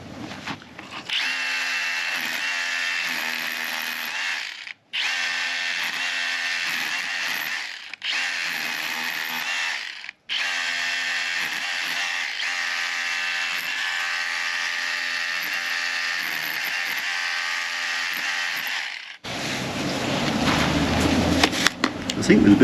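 A power tool fitted with a chisel bit hammers away at stone in loud, steady bursts, with brief pauses between runs before it stops and a muffled voice talks near the end.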